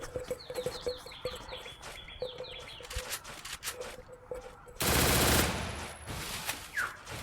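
Rapid MP40 submachine gun bursts crackle in the Free Fire video game, several quick volleys over a game background with chirping birds, ending in a loud wash of noise.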